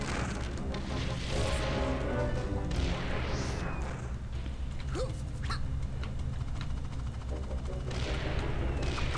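Constant shooting in the video game Rayman 2, a dense busy stream of game effects with rapid bursts of fire and whooshing sounds layered over a steady music bed, loud throughout.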